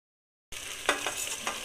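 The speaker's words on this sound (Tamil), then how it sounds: "வெங்காயம் நல்லா வதங்கினதுக்கு அப்புறம் இஞ்சி பூண்டு பேஸ்ட்டு சேர்த்து அதையும் பச்சை வாசனை போகிற அளவுக்கு நல்லா வதக்கி விட்டுடலாம்." Onions sautéed with ginger garlic paste in a pan for chicken dum biryani: after a short silence comes a steady, moderately quiet sizzle with a few spoon scrapes, close and without talk.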